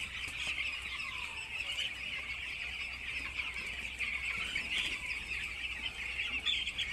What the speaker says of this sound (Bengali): 11 দিন বয়স মুরগির, দেখে নাও ভালো করে।